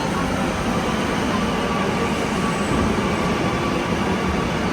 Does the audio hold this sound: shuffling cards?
no